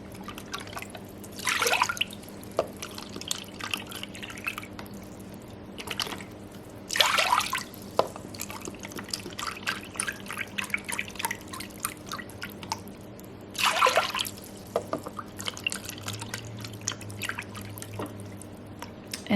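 Liquid poured into a large crock pot during keto meal prep, heard as three separate bursts of pouring and splashing with quiet handling noises and a steady low hum between them.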